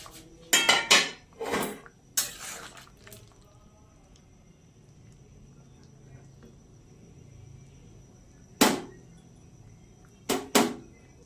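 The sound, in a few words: pot lid being opened after cooking jackfruit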